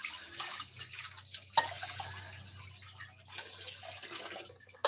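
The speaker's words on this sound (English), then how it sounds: "So I'm going to pour it in the sieve." Cooked vegetable soup liquid is poured into a sieve, giving a continuous splashing, rushing flow close by that holds fairly steady for several seconds with a few small clinks and no talking.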